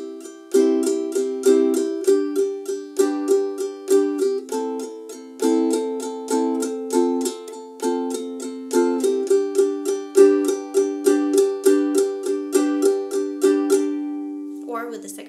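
A ukulele strums the chord progression of a song in a steady, even pattern, bright and close, played alone for about fifteen seconds.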